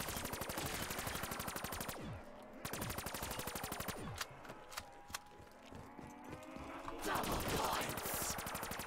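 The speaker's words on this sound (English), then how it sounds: "Only shooting at the ones in my way." Rapid, continuous automatic gunfire in a Black Ops 3 custom zombies game, loud close bursts broken by short pauses and single shots, with chaotic game effects mixed in.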